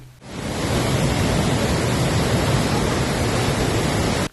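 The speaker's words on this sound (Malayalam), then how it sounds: "കല്ലാർ ഡാമിന്റെ എല്ലാ ഷട്ടറുകളും ഉയർത്തി വെള്ളം പുറത്തേക്ക് ഒഴുക്കുന്നുണ്ട്" Floodwater rushes out through the open shutters of Kallar dam in Idukki during a flash flood: a steady, loud, close roar of churning water that runs unbroken from start to finish, with no voices.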